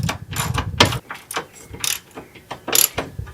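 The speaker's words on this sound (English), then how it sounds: "To savor this process, I'm using manual tools instead of an impact wrench." A hand ratchet clicks in short bursts while bolts are tightened on a Cusco rear powerbrace fitted to a Subaru, close and distinct, with brief pauses between strokes.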